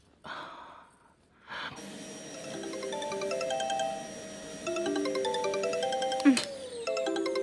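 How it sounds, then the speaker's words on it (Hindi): A mobile phone ringtone plays a bright, looping electronic melody, steady and fairly loud, interrupting a quiet domestic scene after a couple of soft breaths. "काम के ही बीच में हमेशा फोन आता है।"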